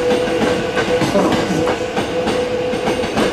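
A Hankyu limited express train rumbles into Katsura station with rhythmic clattering of wheels on track and a faint squeal, loud and close, with a voice faintly audible.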